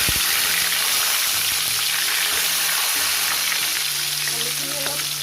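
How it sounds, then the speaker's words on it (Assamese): Potatoes fry in hot oil while cooking a chicken curry, giving a loud, steady, close sizzle with occasional clinks and scrapes from stirring. "এতিয়া মই আলুখিনি অলপ ফ্ৰাই কৰিব লৈছোঁ আৰু একেখিনি তেলতে মই আলুখিনি অলপ"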